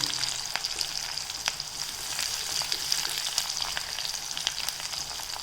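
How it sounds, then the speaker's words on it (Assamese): Onion and green chili frying in a pan over medium flame, a continuous close sizzle with frequent sharp crackles and pops throughout. "পিয়াজখিনি ভাজি থাকোতে গেছটো মিডিয়াম ফ্লেমত থৈ ল'ব নহলে জ্বলি যোৱাৰ চান্স থাকে"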